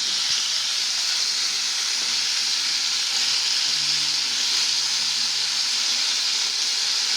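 A pan of sticky peanut stir fry browns over heat with a steady, dense sizzle and hiss that runs without a break, fairly close and even in level.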